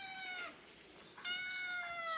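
A kitten meows clearly twice, a drawn-out cry followed after a short pause by a louder, longer one, close by in a quiet indoor room.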